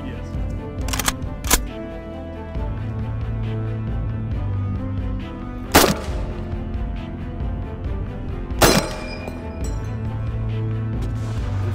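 An M1 Garand and other rifles fire at homemade body armor reinforced with rebar. Four sharp reports ring out: two close together early, then two more spaced several seconds apart, over continuous conversation.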